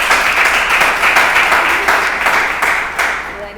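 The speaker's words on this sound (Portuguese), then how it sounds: "Vamos receber a Milena com as palmas que louvam o nome do Senhor." A church congregation applauds to welcome a teacher before a Bible class, with steady, dense clapping that stays loud throughout and fades slightly toward the end.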